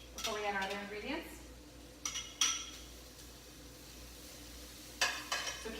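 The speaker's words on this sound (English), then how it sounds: "we throw our carrots in, and we saute them for about 2 minutes" Carrots sautéing in a pan, a soft low sizzle with a few light clinks and scrapes of a utensil against the pan, a voice briefly heard at the start.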